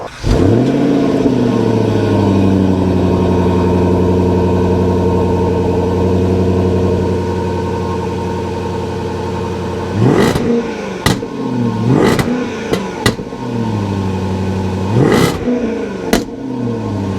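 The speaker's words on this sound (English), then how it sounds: "Tremendous, that 5 litre V8 supercharged, 510 brake horsepower." A supercharged 5-litre V8 car engine of 510 brake horsepower idles with a deep, steady rumble, then several sharp, loud revs blip up and drop back in quick succession.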